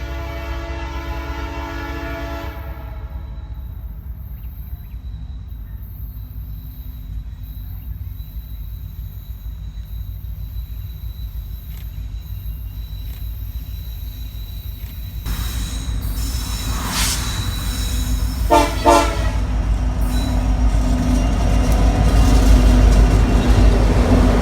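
Freight train C704 rumbles past steadily and loud, its horn blaring in long sustained blasts at the start, then a heavy rolling roar of cars building toward the end.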